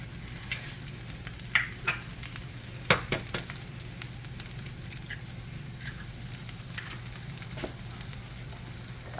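Eggs and frozen onions frying in a hot pan for crispy pork fried rice, a steady close sizzle with a few sharp clinks and stirring scrapes near the middle, no voices.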